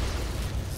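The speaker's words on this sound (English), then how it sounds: "Explosion behind us." A power transformer explodes in the video game Splinter Cell Conviction, a dense, roaring blast that fills the whole moment with loud, rumbling noise and no pause.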